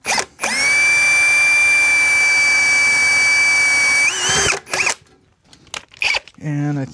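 Power drill boring holes into a metal amplifier chassis during a live amp build, a loud sustained high whine for about four seconds that winds down, followed by brief clanks and a voice talking near the end.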